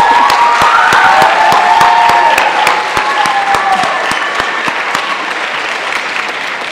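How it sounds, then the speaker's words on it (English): Audience applause for choir students at a spring choir concert, a steady loud wash of many hands clapping that fades slightly toward the end, with some sustained tones ringing underneath. "I want to give a round of applause to these students here"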